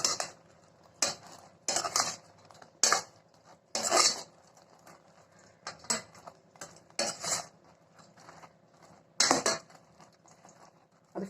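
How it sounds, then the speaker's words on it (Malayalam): A spoon stirs fried honey candy balls through syrup in a pot, with repeated clinking and scraping against the pan in irregular bursts, close by and without speech. "നന്നായിട്ടൊന്ന് മിക്സ് ചെയ്യാം"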